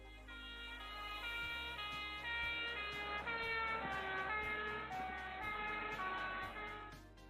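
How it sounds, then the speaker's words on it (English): A steady wailing siren from an ambulance or fire truck sounds at moderate level, its tones sweeping up and down over a low engine rumble, with no talk. "an ambulance or fire truck go by with its siren"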